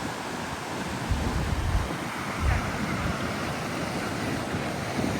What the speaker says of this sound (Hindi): ये देखिए समुद्र का किनारा